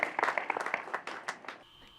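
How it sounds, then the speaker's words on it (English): Short burst of applause from an audience at a news event in Uganda, scattered claps thinning out and fading within two seconds. "Please give them a round of applause"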